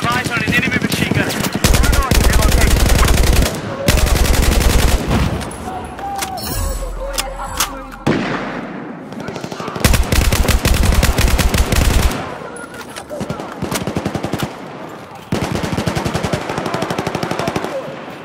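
Machine gun fire in Battlefield 4, loud close bursts of rapid automatic shots lasting a few seconds each, broken by short gaps, with game voices talking in between.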